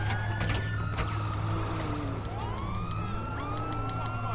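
A police car siren wails continuously in the video game GTA V, a rising and falling electronic tone over steady engine hum, loud and close, with no voices.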